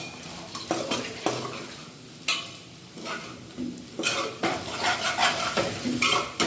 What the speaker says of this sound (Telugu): సో ఇప్పుడు ఒకసారి కలుపుకుందాం.